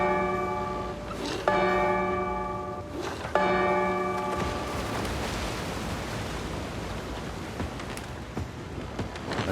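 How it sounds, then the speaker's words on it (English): A large bell in the video game Escape Simulator 2 struck three times, each clang ringing out and decaying into a bed of foggy wind and surf-like noise. "ring the bell 3 times"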